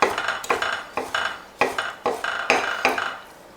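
Knife cutting mushrooms on a cutting board, a series of about eight sharp close chops in an uneven rhythm, each a crisp tap of blade striking board, with no talking.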